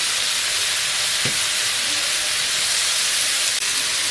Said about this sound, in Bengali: মাংসটা দিয়ে দেবো মাংসটি ভালো করে কষে নেব হলুদ দেবো